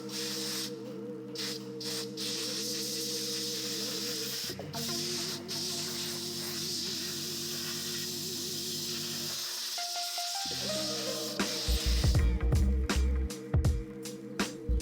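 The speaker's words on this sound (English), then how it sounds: "Compressed air is used to blow away paint chips that resulted from peeling away the plastic." Compressed air hissing in long sustained bursts to blow paint chips off a Mazda Protege trunk lid, loud and close, with a brief pause and heavier rumbling blasts toward the end.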